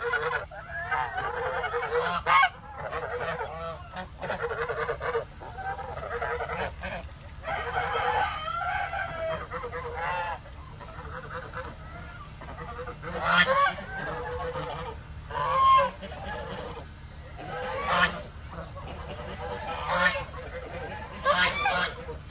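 Several geese honk in irregular bursts, some loud and near, with clucking turkeys and scattered outdoor background noise in the rain between calls.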